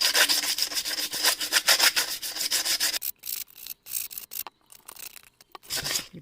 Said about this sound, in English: Now I've got some medium sandpaper, and I'm going to just take my jar and I'm just going to sand off some of the areas here.